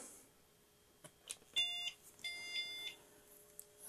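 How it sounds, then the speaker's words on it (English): A few short electronic beeps ring out from a Book 8088 computer on first boot, followed by a longer pair of tonal beeps over a faint background hum. "I got some beeps. That's a good sign, I think."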